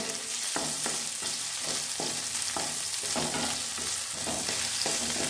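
Paneer pieces frying in hot oil with a pinch of salt, a close, continuous sizzle punctuated by regular stirring scrapes in the pan.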